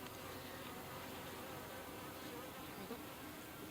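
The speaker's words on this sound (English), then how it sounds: "lots of well-behaved bees" Honey bees at a horizontal hive in beekeeping season make a steady, dense buzz of many insects that holds at an even level throughout, with no talking.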